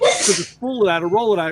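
One sharp, breathy sneeze bursts out at the start, followed immediately by someone talking.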